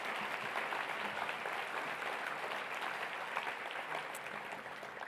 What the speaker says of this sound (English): Another round of applause for our state partners.